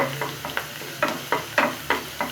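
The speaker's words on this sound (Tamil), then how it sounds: "போட்டுட்டு இதை நல்லா வதக்குங்க." Garlic and curry leaves sizzle in hot oil for a spicy potato fry, with a steady frying hiss broken by regular, close scrapes of a spatula stirring the pan.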